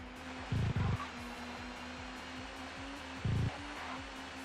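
A touring car crashes into a trackside barrier in the racing game TOCA Touring Car Championship, at Thruxton. Two short, heavy impact bursts break through a steady droning engine note.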